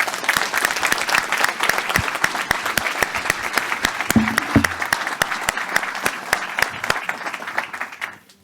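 Sustained audience applause for graduates at a 2022 graduation ceremony, dense steady clapping from a large crowd lasting several seconds before tapering off at the end.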